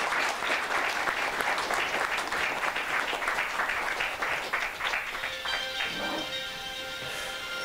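An audience at a scholarship certificate ceremony at Songgwangsa temple gives sustained, even applause. The applause thins and fades out toward the end.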